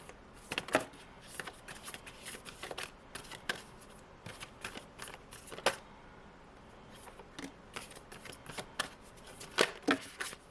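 Moonology oracle cards being shuffled, with repeated crisp riffling and slapping bursts of card stock in irregular clusters, fairly close and soft, with no talking.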